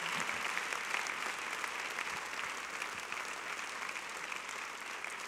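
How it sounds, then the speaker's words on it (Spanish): A church congregation claps in a steady, dense round of applause that fills the whole stretch at even loudness, with no voices standing out. "Dele un fuerte aplauso al Señor esta noche."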